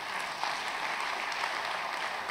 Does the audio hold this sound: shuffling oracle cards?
no